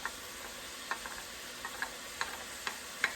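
Scallions and fresh garlic go into a pan of cooking meat for breakfast dirty rice, giving a steady soft sizzle with light, irregular scraping and ticking from stirring, close and quiet.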